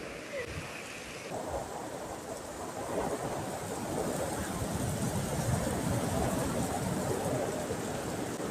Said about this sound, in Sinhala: සැරටම වහිනවා දැන් කොටු වෙලා ඉන්නේ හොඳටම